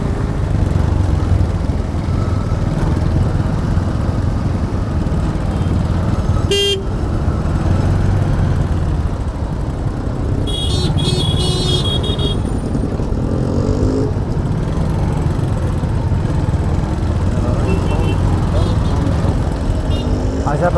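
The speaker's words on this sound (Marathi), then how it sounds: "वाहतूक कोंडी मुंबई नाशिक महामार्गावर वाहतूक कोंडी" Jammed traffic on the Mumbai-Nashik highway near Vadpe: a constant close roar of engines and road noise, broken by a few car horn toots, with a voice talking over it.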